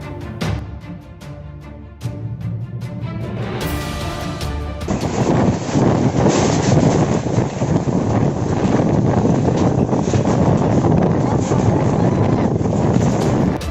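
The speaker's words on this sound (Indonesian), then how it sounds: "Angin puting beliung kembali menghantam permukiman penduduk di Kecamatan Gambut" Strong gusting wind of a whirlwind storm (puting beliung) striking a residential area in Gambut district, South Kalimantan, roaring loud and steady as broadband rush that surges sharply after a few seconds and holds, with no speech.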